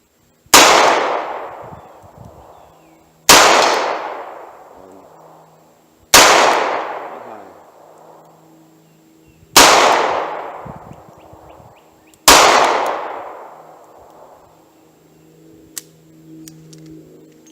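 Five evenly spaced shots from .380 Auto and .38 Special pocket pistols, each a sharp loud crack with a ringing decay from distant steel targets, about three seconds apart, with a faint ping near the end.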